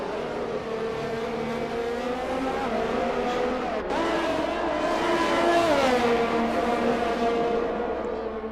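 Ferrari race cars in a racing video game drone past one after another, their engines whining in sustained, shifting pitch that swells and falls over continuous track noise.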